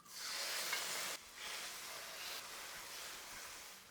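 Chopped tomatoes hitting a hot pan with spring onion and garlic, an abrupt loud sizzle that steadies into a continuous hiss of frying, close and without talk.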